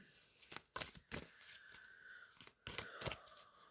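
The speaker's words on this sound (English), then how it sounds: "Let's get shuffling for that" Tarot or oracle cards being shuffled for a pick-a-card reading, with soft riffling and sliding broken by several sharper slaps and snaps, close and fairly quiet, with no talking.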